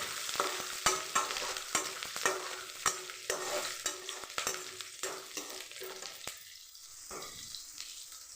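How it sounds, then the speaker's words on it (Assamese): Onion, garlic and chili frying in oil with peanuts, a sizzling hiss broken by a regular rhythm of spatula strokes scraping the pan, fading quieter toward the end. "পিঁয়াজ, ৰচুন, জলকীয়াখিনি অলপ ফ্ৰাই কৰি ল'ম।"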